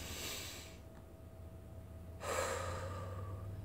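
Slow, deep breaths taken during a calm guided exercise: a long airy exhale, a pause, then a louder drawn breath, close and quiet with no talking.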